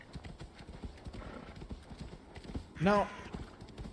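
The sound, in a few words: horse hooves as mount arrives in video game Assassin's Creed Valhalla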